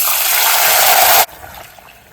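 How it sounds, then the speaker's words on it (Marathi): Two and a half cups of lukewarm water poured onto moong dal in a pressure cooker for moong dal halwa, a close, loud rushing pour lasting about a second before stopping abruptly, leaving quiet room noise. "ह्याच्यात मी अडीच वाट्या कोमट पाणी मिक्स करते"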